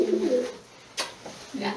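Doves cooing close by in short, soft, low calls, with a brief quiet gap between them.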